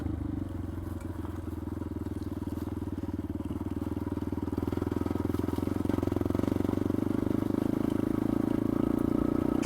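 A Yamaha XT250 motorcycle engine on a first ride thrums steadily close by, a low throbbing single-cylinder note that builds gradually louder over the stretch, with wind and road noise and no talking.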